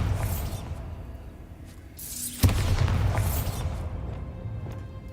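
A Bombarda spell goes off in the Hogwarts Legacy video game: one sharp, heavy boom lands midway through, framed by magical whooshes and a steady ambient game backdrop.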